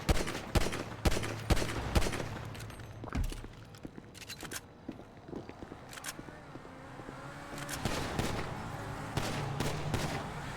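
Sniper rifle gunfire in GTA Online's Snipers vs Flipping Cars mode, sharp loud shots fired in irregular bursts, mixed with car engine noise and crashes.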